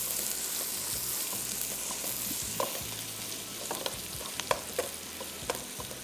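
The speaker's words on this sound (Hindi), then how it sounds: "तो सबसे पहले यहाँ पे एक बड़ा प्याज स्लाइस किया हुआ इसको करूँगा फ्राई।" A large sliced onion frying in a pan, a continuous close sizzle broken by light stirring scrapes, with no talking.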